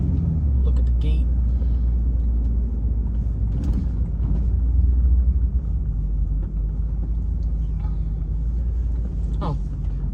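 A car rolls to a stop near a marshland park gate, steady engine and road rumble inside the cabin easing slightly, with a person talking over it throughout.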